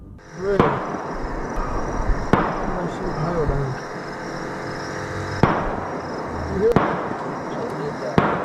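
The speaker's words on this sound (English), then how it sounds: "gunshots rang out from the woods surrounding the water" Several sharp gunshot-like cracks echo from woods surrounding water, spaced irregularly over steady background noise.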